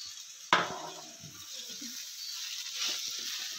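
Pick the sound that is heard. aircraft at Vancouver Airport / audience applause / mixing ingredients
mixing ingredients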